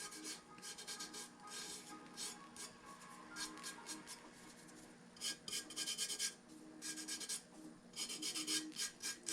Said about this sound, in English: you just want to rub that down, make sure it's really in the tape